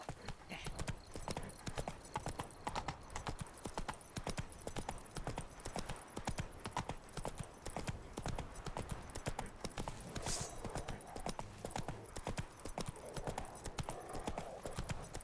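Hooves of the horse Roach clip-clop in a steady, even trotting rhythm through The Witcher 3, a continuous run of moderately close footfalls.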